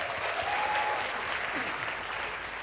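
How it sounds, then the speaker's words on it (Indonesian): Applause fills a televised political debate studio on Surabaya's Gang Dolly, a steady broadband clapping from the audience lasting throughout, moderately loud with no pauses. "Tepuk tangan dulu."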